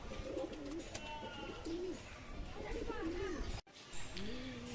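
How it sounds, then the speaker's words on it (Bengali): Domestic Giribaj pigeons coo repeatedly at close range, soft throaty rolling calls rising and falling in a steady rhythm beneath a person talking. "এটা দেশি পায়রা, আমাদের মুর্শিদাবাদে গিরিবাজ।"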